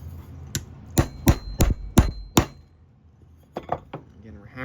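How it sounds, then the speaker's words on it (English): Hammer strikes ring out on a piece of aluminum during reassembly of a 1960s Westclox Magic Touch Drowse clock: six sharp, close metallic blows in a steady rhythm, then three lighter taps after a short pause. "Again, we're hammering into that piece of aluminum."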